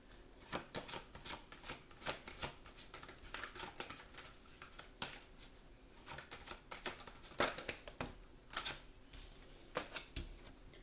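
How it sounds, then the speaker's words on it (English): A deck of oracle cards shuffled in quick, riffling bursts of papery flicks and taps, repeated steadily throughout, close but quiet, with no talking. "We're going to go ahead and get started with some oracle cards."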